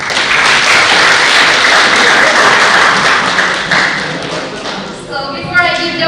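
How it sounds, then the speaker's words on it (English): An audience claps for a speaker at a youth public speaking competition, a loud, steady wash of applause with some thuds that fades after about five seconds, when a voice begins talking. "Once again, clap for her."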